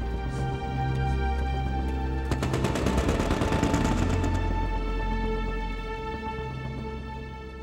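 A machine gun fires over a droning, music-like background bed: a rapid burst of evenly spaced shots runs for about two seconds in the middle, moderately loud and somewhat distant.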